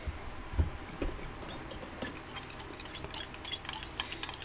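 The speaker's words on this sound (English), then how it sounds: "We're going to give that a slight stir." A spoon stirring thick sauce for crispy chili beef with peppers and onions, soft intermittent scrapes and light taps against the pan, quiet and close, with no talking.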